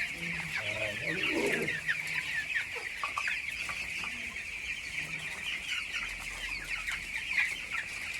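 Chickens cluck repeatedly nearby on a poultry farm, with a constant high insect-like buzz behind them and a voice briefly audible.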